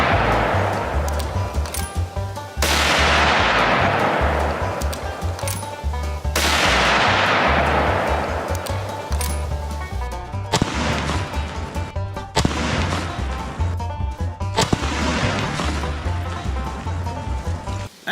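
Several loud 30-06 rifle shots, Federal Power Shot rounds fired into a jug, each a sharp blast followed by a long rolling echo and decay, spaced a few seconds apart outdoors.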